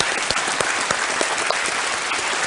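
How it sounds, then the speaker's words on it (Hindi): An audience on a TV quiz show set gives sustained applause to welcome the CID team, a thick wash of many hands clapping at once, loud and steady with small bursts throughout. "बहुत बहुत तालियों के साथ इनका स्वागत किया जाए"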